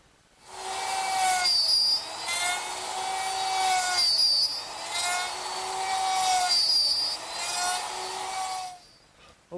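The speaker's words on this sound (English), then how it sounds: "I just take the side pieces and slide them in and cut the pins with the router" A router cuts pins on the side pieces of a wooden chair, a loud whining drone that rises and falls in three or four long passes, close and alone.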